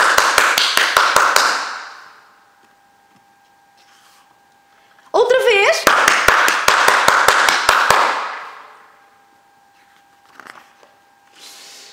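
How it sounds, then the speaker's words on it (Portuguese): Two bursts of rapid, close hand clapping, applause from one or a few people, separated by a quiet gap, with a brief voice during the second burst and faint sounds near the end. "agora vamos aplaudir mesmo"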